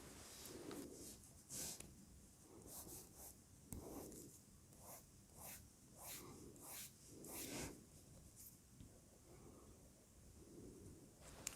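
A reMarkable Marker Plus stylus scratching across a tablet screen in short, repeated strokes, with a light rattle from the loose rubber tip shifting in its housing; close, fairly quiet and irregular, no talking.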